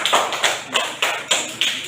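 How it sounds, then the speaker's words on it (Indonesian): Classmates applaud group 1 in a classroom with a rhythmic run of sharp, close claps landing at an even beat, about six in quick succession. "Nah, kalau begitu tepuk tangan buat kelompok 1"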